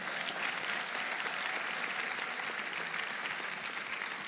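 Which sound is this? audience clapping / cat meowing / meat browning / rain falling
audience clapping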